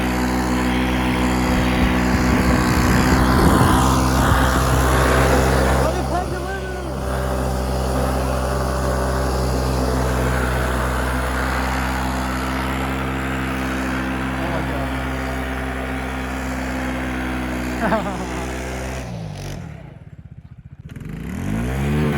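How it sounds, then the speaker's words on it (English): A vehicle drifting in snow holds its engine at a steady, loud buzzing rev limit for a long stretch, then briefly drops off before picking up again, with talk faintly in the background. "you gotta let it peg the limiter when you're drifting to make it proper"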